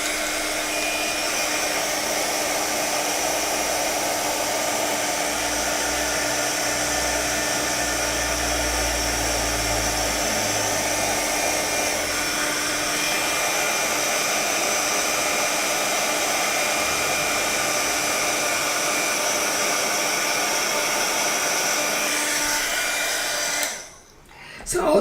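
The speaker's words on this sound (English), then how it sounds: "I am going to turn my heat gun on now." Heat gun blowing continuously for heat embossing craft work, a loud steady whooshing roar with a constant whine, running alone for most of the stretch before shutting off abruptly near the end.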